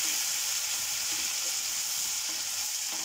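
Garlic, ginger and cumin paste fries steadily in a pan at home, a continuous close sizzle with faint stirring scrapes and no talking.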